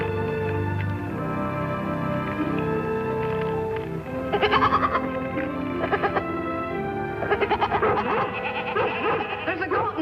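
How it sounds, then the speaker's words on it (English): A goat in trouble bleats loudly and repeatedly in tremulous, wavering calls, close up and with no talk over it, in a 1956 Lassie episode about goats. "There's a goat in trouble."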